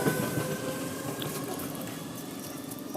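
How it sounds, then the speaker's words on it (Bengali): A Howrah-bound local train pulls out of Tarakeswar station, a steady broad rumble of rolling wagons with faint rail clatter, fairly close and continuous throughout. "হাওড়াগামী ট্রেন বেরিয়ে যাচ্ছে তারকেশ্বর স্টেশন থেকে"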